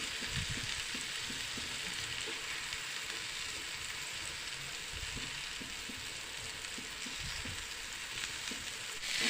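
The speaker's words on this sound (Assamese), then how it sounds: "দুটা চাইডে আমি ৰঙচুৱাকৈ ভাজি ল'ব লাগিব।" Marinated tandoori chicken pieces frying in a pan on a gas stove, a steady bright sizzle throughout with occasional soft scraping and stirring knocks, close and continuous.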